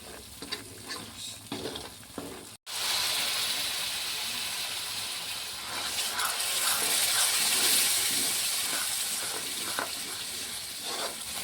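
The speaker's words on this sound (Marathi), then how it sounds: "तर आपला मसाला चांगल्याने उकळ आलेला आहे त्याला" Fish curry masala boils in a pan with a constant soft bubbling and sizzling hiss, interrupted by a brief cut early on and then continuing steadily at moderate volume.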